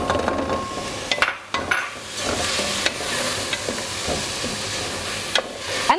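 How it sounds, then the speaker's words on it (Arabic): Rice is stirred in a pot with spices and tomato juices, a steady sizzling and scraping with spoon clinks, close and continuous, no voices. "بضيف الرز وبقلبه كويس علشان يشرب بقى التوابل والعصير اللي نزل من الطماطم"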